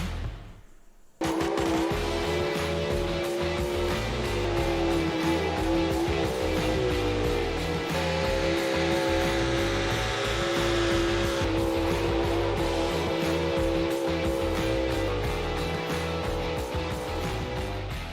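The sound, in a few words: big block four-wheel drive trucks at a truck pull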